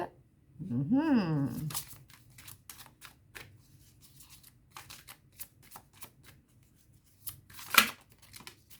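Tarot cards are shuffled and handled in a quiet room, a soft riffling flutter followed by a run of light, irregular taps and card snaps, with one sharper riffle near the end. No one speaks.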